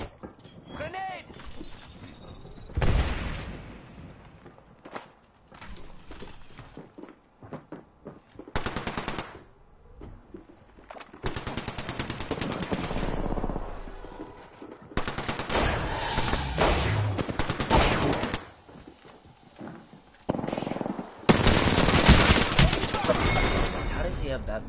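Rapid automatic gunfire from a first-person shooter video game, loud bursts recurring across the clip alongside explosions and other game effects, with people talking throughout.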